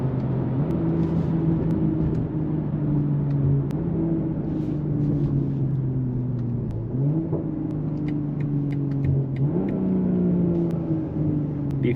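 A BMW M340i with the B58 inline-six revs hard while driving at night, its engine note climbing through gears with brief dips at the shifts, loud and continuous with no talking.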